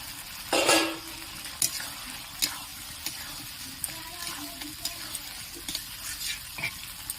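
Fried pointed gourds are stirred into a spice paste that has released its oil, for a prawn and potol curry. Quiet background sizzle is broken by repeated spatula scrapes and knocks against the pan.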